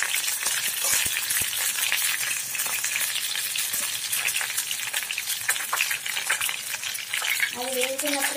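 Goat brain frying in oil with masala, a loud, steady, close sizzle crackling throughout, with a few stirring knocks early and a brief tonal sound near the end, no talk.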